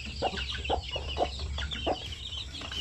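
Shamo aseel chickens clucking in repeated short bursts close by, over a steady low hum, with no talk.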